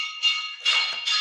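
An electric school class bell rings in three bursts of harsh, loud, buzzing tone, each about a third of a second long, with no voices over it.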